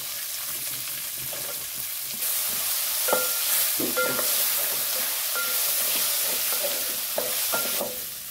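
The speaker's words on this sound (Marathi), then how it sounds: "कांदा छान असा गुलाबी रंगावर परतून घ्यायचा आहे" Onion is stirred and sautéed in a pan with fresh curry leaves, asafoetida and coriander, making a steady sizzle that rises in intensity partway through, with repeated scraping of a spatula.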